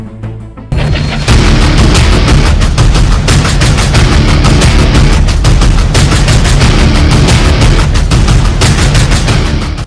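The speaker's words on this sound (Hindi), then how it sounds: "बदमाश दिख रहे बेखौफ, बमबारी से दहशत में लोग।" Loud, continuous street blasts from bombs thrown during violence in Bhagalpur, heavy and distorted, one dense barrage of booming cracks lasting several seconds after a brief quieter start.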